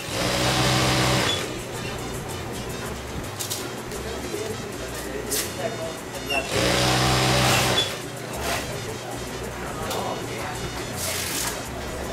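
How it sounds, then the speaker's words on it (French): A sewing machine stitches the seams of a hammock in a Barranquilla hammock workshop, running in steady bursts with a couple of louder surges, mixed with workshop background and soft bird coos. "la señora qui est là, elle fait la première partie de la couture"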